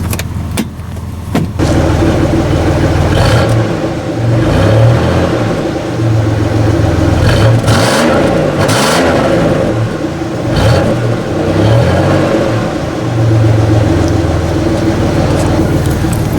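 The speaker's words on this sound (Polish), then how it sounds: "ładnie chodzi na wolnych obrotach" A 1992 Buick Park Avenue with a 3.8 V6 runs steadily at idle close by, with a low, even hum that barely changes over the whole stretch and a few faint clicks and rattles on top.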